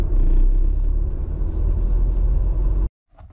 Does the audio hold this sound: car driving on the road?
yes